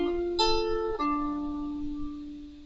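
Measure 22 of a tune plucked on a lyre, a few clear ringing notes struck one after another and left to sustain softly, alone and close.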